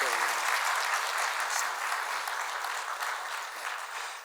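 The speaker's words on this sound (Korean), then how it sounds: "우리 박수로 사랑 표현하도록 하겠습니다" A church congregation applauds at a Korean worship service, loud dense clapping filling the room steadily throughout, with a brief spoken thanks over it.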